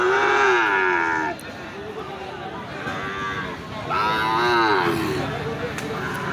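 A Sahiwal bull at an outdoor cattle market in Ambari moos loudly and close by, giving two or three drawn-out calls over a busy background murmur.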